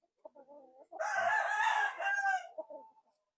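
A fighting rooster, a day before a fight, gives one full crow lasting about a second and a half, with short clucks before and after. The bird sounds fairly close but moderately quiet.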